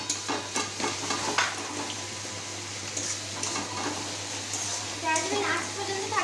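Ball-shaped pieces of dough dropped into hot oil fry with a steady crackling sizzle, broken by a few clinks and stirring scrapes, while a voice talks faintly in the background.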